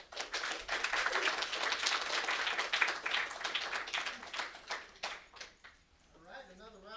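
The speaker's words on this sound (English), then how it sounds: "another round of applause for Brittany," Audience applause at a university English department student reading breaks out loud and dense, sustained for several seconds before thinning into scattered claps as a voice begins speaking over the tail.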